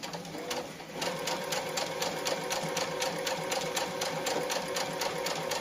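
A sewing machine runs fast, stitching a cloth doll body with rapid, evenly spaced mechanical clatter that starts after a brief pause and continues steadily up close, with no voices.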